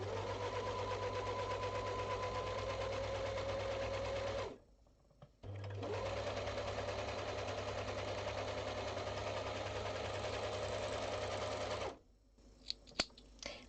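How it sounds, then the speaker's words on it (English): An overlocker serges along the top edge of small ball-jointed doll leggings, a steady loud mechanical whir with a low hum, running for about four seconds, pausing briefly, then running again for around six seconds before stopping. "Now I will serge the top of the leggings."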